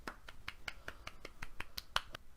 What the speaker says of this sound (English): Kudos, golf clap.